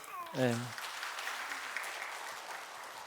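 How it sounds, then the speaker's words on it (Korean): Church congregation clapping during a Sunday worship service, a steady broadband patter filling the room for about three seconds, with a brief spoken voice at the start. "인사할 때 박수 한번 해주시죠."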